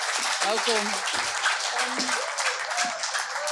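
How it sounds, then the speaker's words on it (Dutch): An audience claps warmly to welcome a guest to a national conversation about freedom, with sustained dense applause and a voice speaking briefly over it. "Geef hem een warm applaus."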